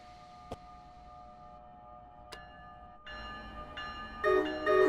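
A train bell rings in Train Sim World 4 on the NEC Trenton line: sharp single strikes at first, then a louder, sustained ringing tone that builds near the end inside the cab.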